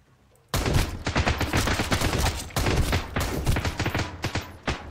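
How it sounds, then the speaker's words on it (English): Enemy gunfire in Sunkenland erupts suddenly and continues as dense, rapid bursts of shots, loud and close, with a brief pause near the middle before the firing resumes. "They're shooting from 2 directions. There is another one shooting from there somewhere."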